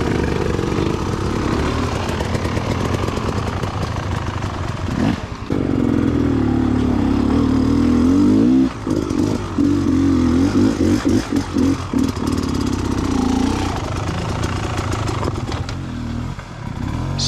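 Enduro dirt bike engine climbing an uphill switchback on slippery wet rock, loud and close, revving and surging with throttle changes, clattering over the terrain and backing off in bursts.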